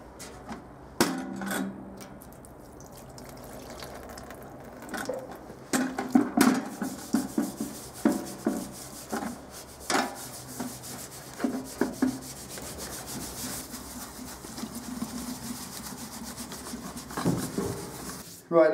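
Scrubbing residue off a Triumph Tiger motorcycle part in a garage, irregular rubbing and scraping strokes with occasional knocks and clatters, close and moderately quiet.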